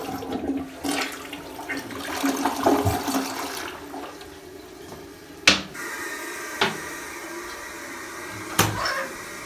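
A hotel room toilet at a Hampton Inn & Suites in Woodstock, Virginia flushes with a loud rushing swirl of water that fades into a softer refill hiss, punctuated by a few sharp clicks and knocks.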